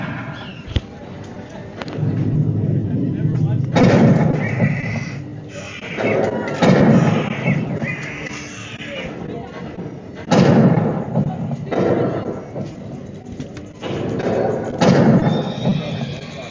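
Rifle shots ring out at the Frontierland shooting gallery in Disneyland, a series of sharp thudding bangs spaced a few seconds apart over a busy, murmuring crowd background.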